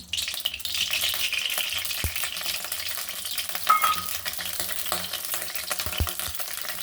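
Pieces of fish fry in hot oil in a wok-style kadai, giving a steady close sizzle with a few sharp knocks and clinks from the utensil against the pan.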